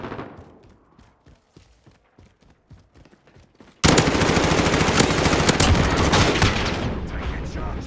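Gunfire in Call of Duty Modern Warfare during a 6v6 Headquarters match on a tank factory map: scattered distant single shots, then a sudden loud, sustained barrage of overlapping automatic bursts that dominates the rest of the clip.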